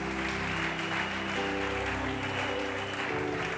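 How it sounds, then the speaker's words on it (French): Congregation applauding steadily in a church, a dense continuous wash of clapping with some cheering and a sustained musical tone underneath, loud and unbroken throughout. "Mais pourquoi tu n'acclames pas?"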